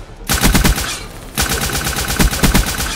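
Rapid automatic gunfire from a DLC gun in the Black Ops 3 video game, loud close bursts of quick repeated shots with one brief pause between them.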